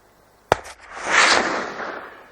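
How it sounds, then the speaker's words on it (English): A rifle shot fired while hunting deer in a New Zealand national park cracks once, sharp and loud, then rolls away in a long fading echo across open country. "A second shot kills the young male instantly."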